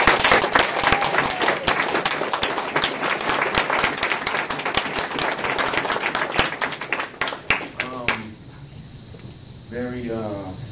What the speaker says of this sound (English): Give Kelvin a round of applause.